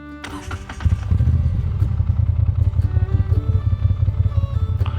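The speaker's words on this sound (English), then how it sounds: "When you go to start this bike, I mean, it rumbles, it wobbles, it does all kinds of stuff." Moto Guzzi V7 Sport motorcycle engine starting up and settling into a loud, close, lumpy idle with a steady pulsing rumble and some mechanical clatter.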